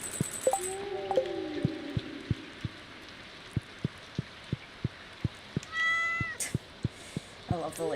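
A cat meows twice in the Stardew Valley farming game, then a second creature's chirps follow, all over regular soft ticking thumps and a brief rush of noise.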